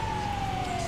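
Ambulance siren in a video game, a single steady wailing tone gliding slowly downward over a low rumbling backdrop, fairly loud and without talk.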